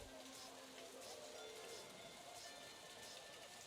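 Steady rain hisses across a dark, neon-lit street in a Blade Runner video game, a dense continuous wash without pause, with faint tonal game sounds underneath.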